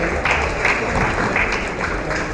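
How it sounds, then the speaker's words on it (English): A conference audience at a CREDAI Natcon masterclass on overseas listing applauds and cheers as a panelist is introduced, a dense, steady wash of clapping with a few louder bursts from the crowd. "Round of applause, yes, of course, let's keep the cheering going on."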